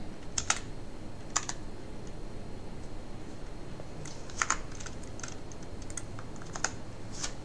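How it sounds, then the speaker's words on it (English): Keys on an Ultimate Hacking Keyboard clacking in short irregular bursts of typing, close but fairly quiet over a low background hiss, with no talking. "you have to type"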